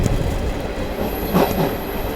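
A moving passenger train on the Mumbai to Chhatrapati Sambhajinagar route rumbles steadily, with a dense low roar of wheels on track and a faint metallic squeal rising briefly partway through.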